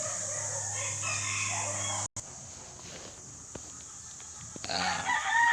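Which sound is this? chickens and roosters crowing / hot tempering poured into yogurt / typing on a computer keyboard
chickens and roosters crowing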